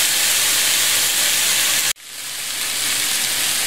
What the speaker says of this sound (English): And we'll go ahead and let those ribs brown.